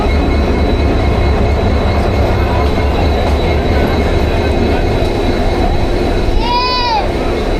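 A train rumbles steadily along the rails, loud and close, with a brief high wheel squeal near the end.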